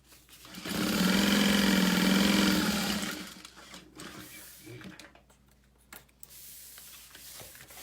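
A sewing machine basts the side of an all-vinyl tote bag in one steady, humming run of about two seconds, close and loud, then stops and leaves quieter handling sounds.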